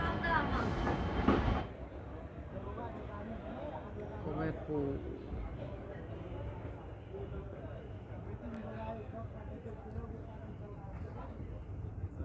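The 13160 Jogbani–Kolkata superfast express running on rails, a steady low rumble and rolling rattle of the carriages at moderate level, with indistinct voices in the background.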